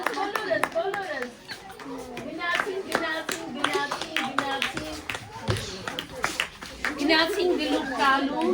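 An audience applauds school No. 160 at a book festival. Steady, close hand clapping continues throughout, mixed with voices, including children's, that speak and call out over the applause.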